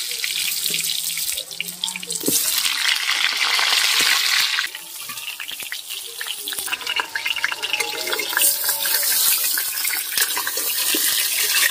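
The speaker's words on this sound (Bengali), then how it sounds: "তেলটা গরম হয়ে এসেছে, আমরা আলুগুলো হালকা করে ভেজে নেব।" Potatoes lightly frying in hot oil, a loud continuous hissing sizzle like rushing water that surges and settles over several seconds with scattered crackles.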